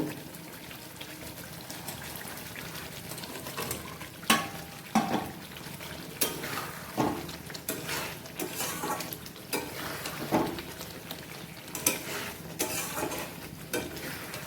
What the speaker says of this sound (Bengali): এখন আমি এটার মধ্যে মাছগুলো দিয়ে দেব।